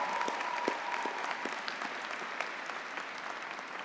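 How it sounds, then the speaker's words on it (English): Graduates and guests at the Adelphi University 2025 graduate commencement applaud the faculty, a soft, distant, even roll of clapping from a large hall crowd. "let's give them one more round of applause."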